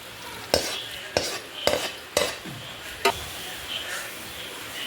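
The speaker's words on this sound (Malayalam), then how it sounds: "നന്നായി ഉള്ളി മൂപ്പിച്ച് വയ്ക്കുകയാണ്" Onions sauté in a pan for a Kerala herbal porridge as a utensil knocks against it in five sharp strikes about half a second apart, over a faint steady sizzle, close by.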